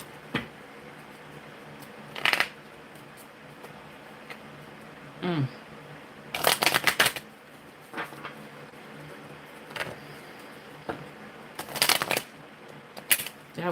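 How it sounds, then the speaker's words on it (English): Deck of oracle cards shuffled by hand during a reading, several short bursts of riffling and flicking card sounds separated by quiet pauses, close up, with a brief spoken murmur in between. "That was a terrible shuffle."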